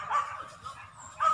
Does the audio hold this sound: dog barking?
yes